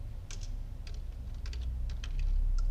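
Quick, irregular clicks of a computer keyboard as a spreadsheet formula is typed, close and moderately loud over a low steady hum, with no talking.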